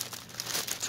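A plastic bag around cross stitch kit packaging crinkles as it is peeled open, in a short burst of close, soft rustling with no talking.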